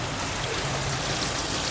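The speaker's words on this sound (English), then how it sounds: "we're going to test out the pump" Water pumped into a hydroponic watercress tank pours steadily with a broad, continuous rushing splash, close and even throughout with no talking.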